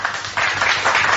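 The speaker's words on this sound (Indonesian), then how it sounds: "Tepuk tangan dulu biar semangat." Brief burst of clapping from an audience at a religious talk, a quick dense patter of hands rising and falling in short waves, close and fairly loud.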